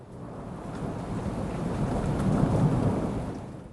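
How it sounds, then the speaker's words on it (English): Heavy rain pounds steadily on a thatched treehouse roof, a dense even hiss with a deep thunder rumble swelling underneath toward the middle and end. "The storm outside has settled into something less violent now, still heavy, still loud against the thatch, but steadier, more like weather than event."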